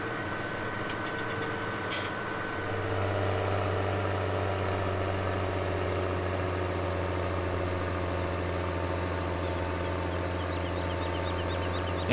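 A John Deere tractor of just over 200 horsepower in Farming Simulator 17, its engine droning in a steady low hum that steps up slightly in load after a couple of seconds and holds constant, no talk.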